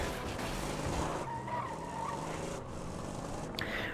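Car wheels stuck and skidding in the Borderlands video game, a steady, continuous tire-spinning screech with engine roar throughout, fairly loud and alone with no talk.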